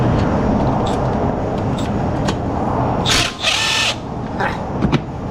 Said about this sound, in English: let's see if the right angle impact will do that